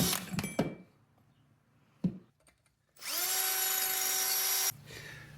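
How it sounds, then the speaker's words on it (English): A high-pitched power drill with a small bit whines steadily for about two seconds, drilling pinholes to mount a light bar, after a few light taps and clicks, then winds down as it stops. "Get a small drill bit."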